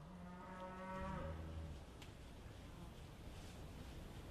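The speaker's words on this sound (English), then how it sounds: "I'm going to play Pied Piper now and lead these cows" Out in a field, cattle moo with one deep, drawn-out low call near the start, then a quieter mix of moos, against steady wind noise.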